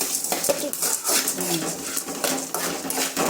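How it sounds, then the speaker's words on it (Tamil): A utensil stirs masala ingredients sautéing in oil in a pan, with steady scraping, clinks against the metal and a low sizzle running throughout, close and fairly loud. "எல்லாத்தையும் கொஞ்சம் கொஞ்சம் எண்ணெய் ஊற்றி வதக்கிக்கோங்க"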